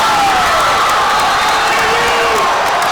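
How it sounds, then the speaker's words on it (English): A volleyball crowd cheering after a match win, a loud dense roar of shouts, whoops and clapping with a rising high-pitched whistle-like tone, filling the whole gym continuously. "The crowd is going ballistic"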